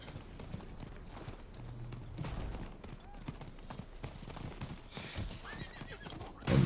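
A horse gallops in Diablo 4, its hooves clip-clopping in a quick steady rhythm with a neigh, all fairly quiet, ending in a louder thud.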